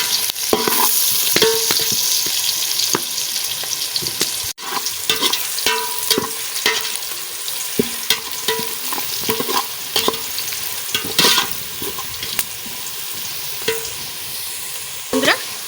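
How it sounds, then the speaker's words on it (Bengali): Onions frying with salt in a pan, a steady loud sizzle broken by frequent scraping stirs, close up and continuous with no talking. "লবণ দিয়ে পেঁয়াজ ভাজার সাথে একটু লবণ দিয়ে দেবো ফটোফট সুন্দর ভাজা"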